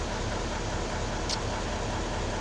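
A Mercedes-Benz OM 422A diesel engine in a 1989 Liebherr LTM 1070 crane idles close by on a cold start, with a continuous rhythmic valve-tapping clatter running through its steady rumble.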